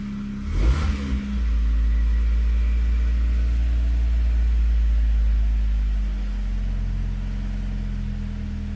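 A Megasquirt-tuned car engine idles up as the air conditioning switches on, a steady low hum settling near 1,000 rpm after a brief higher swell and click at the start, close and fairly loud with no talk.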